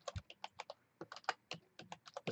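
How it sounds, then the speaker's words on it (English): Fast typing on a loud computer keyboard, a close, crisp run of clacking keystrokes in uneven bursts with brief pauses. "This keyboard's really loud."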